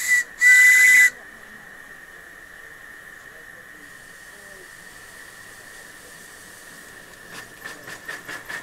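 An LNER B1 steam locomotive gives a short, loud whistle blast with a burst of steam hiss, then a steady steam hiss under a quieter background, with faint chuffing toward the end.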